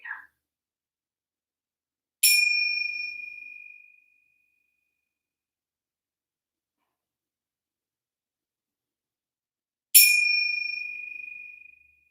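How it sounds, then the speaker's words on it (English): A meditation chime rings twice, clear and bright, each strike fading slowly over a couple of seconds with long silence between, heard close and alone. "With each chime, you can say something to yourself."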